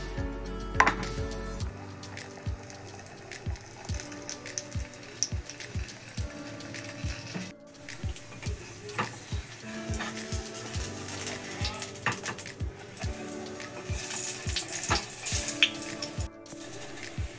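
Egg and maida batter dropped into hot oil and frying, a steady sizzle with repeated sharp ticks and pops all through, heard close.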